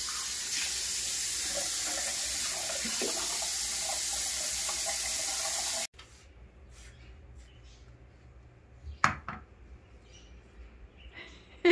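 A tap runs steadily at a sink, water splashing loudly for several seconds before cutting off, followed by quieter room sounds, a faint drip or clink and a brief knock.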